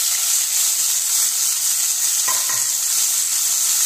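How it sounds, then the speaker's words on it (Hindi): Cluster beans (guar phali) dropped into hot oil tempered with cumin, asafoetida and turmeric for Rajasthani gavarfali bhurji, giving a loud, steady sizzle that fills the whole stretch, with a couple of brief clinks of ingredients going in. "अब हम इसमें डालेंगे ग्वार फली"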